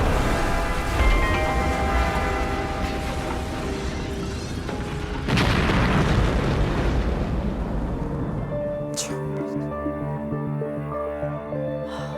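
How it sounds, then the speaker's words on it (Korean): Roughly 500 kg bomb planted in a drainage pipe under a road and detonated by remote control, a sustained roaring blast with a second surge midway, then a rumbling decay into lingering debris noise. "리모컨으로 폭발시켰던 것이죠"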